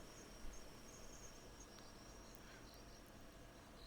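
Crickets trill continuously at night with a faint, distant sea behind them, the high, steady pulsing chirps forming an even outdoor backdrop that holds without pause or voices.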